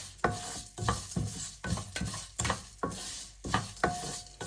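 Coriander seeds are stirred as they fry in a pan for Mangalorean chicken curry, giving rhythmic scraping strokes about once a second over a soft sizzle, close and without voices.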